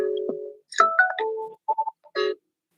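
A phone plays its water-reminder notification, a short tonal jingle of several bright beeps and chimes, close and clear against a quiet background.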